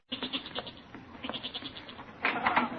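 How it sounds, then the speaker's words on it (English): Restless goat bleating from a cellar in a 1940s radio comedy, a series of short wavering calls that swell louder near the end, with no voices over them. "No, that's not my father. That's the goat."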